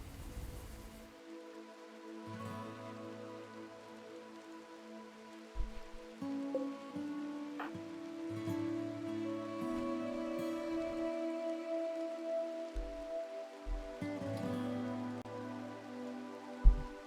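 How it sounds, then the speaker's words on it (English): Rain falling in the video game RimWorld, a soft, steady patter heard faintly beneath layered game music, continuing throughout without any voices. "This rain will help our crops ripen before the winter frost"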